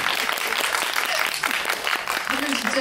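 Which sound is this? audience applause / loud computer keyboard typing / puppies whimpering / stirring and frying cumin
audience applause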